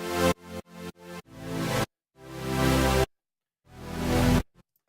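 Future bass synth chords with an envelope shaped in Serum: four short pumping stabs followed by two longer swelling chords, separated by silence, loud and clean with no voices.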